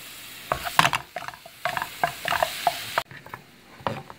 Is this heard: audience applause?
no